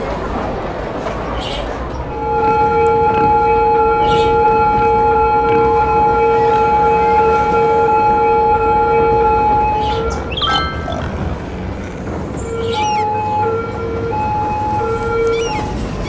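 A wailing ambulance siren in the Cities: Skylines city-building game sounds loud and steady from about two seconds on, dipping briefly near the ten-second mark and then resuming, over a low hum of city traffic.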